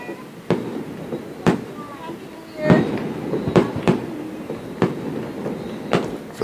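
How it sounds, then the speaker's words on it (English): New Year's Eve fireworks over Grenada crack and thump as sharp distant bangs at irregular intervals over a steady crowd murmur, with voices talking throughout. "we're looking at New Year's Eve fireworks"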